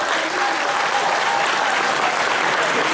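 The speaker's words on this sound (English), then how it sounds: "Big round of applause for the most important guest" Loud, sustained applause fills the hall from a large convention audience at the Megaplex 2019 opening ceremony, a dense, even roar of clapping with crowd noise running steadily throughout.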